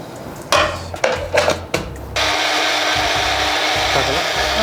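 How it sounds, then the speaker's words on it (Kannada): Kitchen mixer grinder blending spinach and coriander leaves, switched on in a few short pulses and then run continuously as a loud, steady high-pitched whirring grind. "ಪಾಲಕ್ ಸೊಪ್ಪು ಸ್ವಲ್ಪ ಗ್ರೈಂಡ್ ಮಾಡ್ಕೋಬೇಕಾಗುತ್ತೆ"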